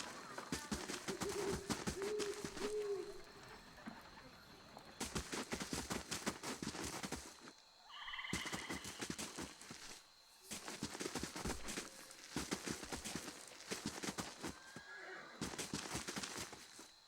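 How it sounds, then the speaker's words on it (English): Horses in the video game Pillars of Eternity whinny amid repeated bursts of clip-clopping hooves, fairly faint, with short quiet gaps between the runs. "Here's the horses."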